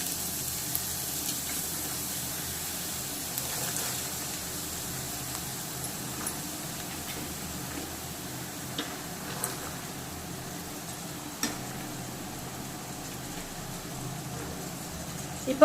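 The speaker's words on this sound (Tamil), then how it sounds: "இப்போ கேரட் ஆட் பண்ணிட்டு இதை நல்லா கிளறி விட்டுக்கலாம்." Carrots added to hot oil for a carrot and egg stir-fry sizzle steadily, with faint stirring scrapes, a constant frying hiss at low to moderate level.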